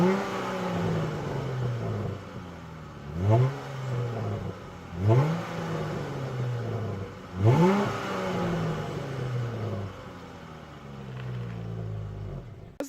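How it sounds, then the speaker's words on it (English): A 2015 Dodge Challenger SXT Plus coupe with a non-V8 engine revs through its exhaust, three quick throttle blips rising and falling over a steady idle rumble, heard close with no talking. "let's hear the exhaust out. It's not too loud and it's not a V8, but it does make some noises"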